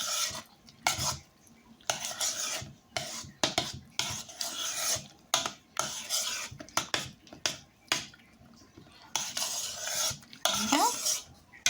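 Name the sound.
stirring strawberry mousse mixture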